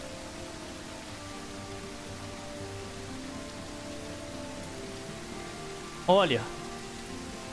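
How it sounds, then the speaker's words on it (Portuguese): Steady, soft hiss of heavy rain in a survival video game falls continuously, with a brief spoken word cutting in near the end. "Chuvarado tá rasgando selado aqui"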